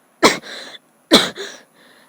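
Two sharp coughs, each followed by a short raspy breath, close and loud with a brief gap between them.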